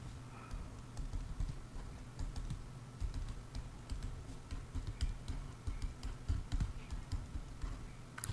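Keys rattle steadily on a computer keyboard, an irregular stream of quiet clicks lasting throughout, with faint background hum and no voices.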